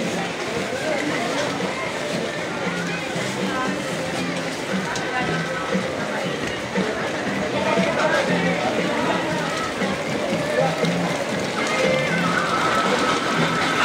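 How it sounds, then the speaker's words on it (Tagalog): Heavy rain pours steadily at a fish market stall, a dense continuous hiss that swells slightly toward the end, with people talking throughout over the downpour. "Ang lakas ng ulan guys."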